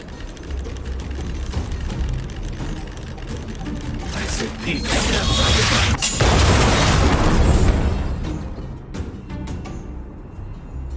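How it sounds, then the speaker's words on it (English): An automaton stealth bomb in the video game Honkai: Star Rail goes off with a loud booming burst about midway, set against dense game sound effects and rumble. "Use the automaton stealth bomb."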